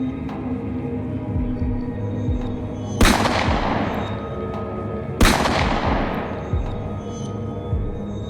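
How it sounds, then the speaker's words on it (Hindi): Two loud gunshots, fired upward during a tense confrontation in a horror movie, crack out about two seconds apart, each ringing off into a long decaying tail over a low throbbing hum. "लुकास ने ऊपर गोली चलाई।"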